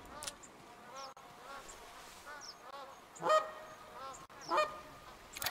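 Flock of magpie geese honking in theHunter Classic, a few scattered calls then two louder bursts of honking around the middle and end, with faint insect-like buzzing in the background.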